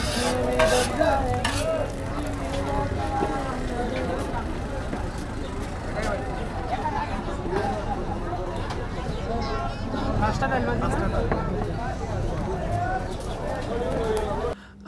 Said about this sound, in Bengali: মামা ডিম ভাজতেছে।